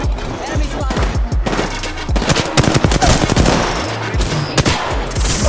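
Rapid, loud bursts of automatic gunfire in the Apex Legends video game, with sharp individual shots and overlapping volleys, while players talk over the shooting.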